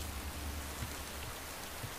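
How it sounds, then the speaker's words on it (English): Steady rain in the Minecraft video game, a dense, even hiss of falling drops with soft low patter. It continues without a break and no one speaks. "now it's raining on my dragon"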